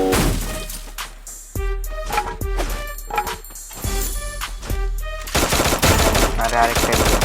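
Rapid bursts of automatic gunfire crack out in a Bengali-commentated shooter game, clustered volleys separated by short gaps and building to a denser barrage near the end, with tonal game sounds ringing between shots.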